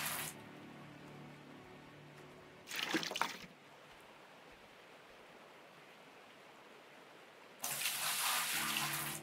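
Water flows and splashes in Gold Rush: The Game, with two loud bursts of running, tap-like gushing and a quieter trickle between them. No one speaks.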